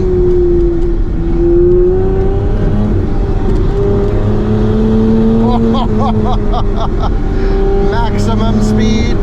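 A 500hp Classic Mini revs hard at full throttle on a public road, its engine note climbing steadily and loud throughout, with people talking over the drone inside the car.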